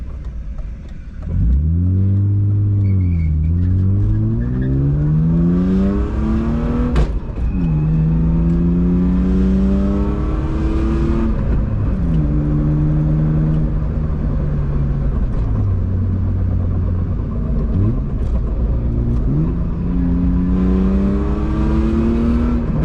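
A BMW E36 with a rewelded rear differential accelerates hard through several gears, its engine note climbing and dropping with each shift, loud and close.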